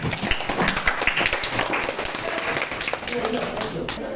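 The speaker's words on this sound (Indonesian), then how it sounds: "Beri tepuk tangan pada teman kalian." A class applauds fellow students after their presentation: dense, steady clapping from many hands fills the room, with chatter mixed in.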